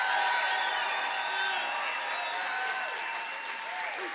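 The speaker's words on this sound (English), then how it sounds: "I just got this group clapping, this group" Dense applause from a live audience at a motivational keynote, steady and loud for the full stretch with a few cheers mixed in, slowly easing toward the end.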